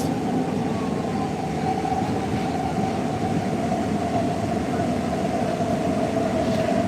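A Warsaw metro subway train running, a steady loud rumble with a sustained whine throughout, close and continuous with no talk.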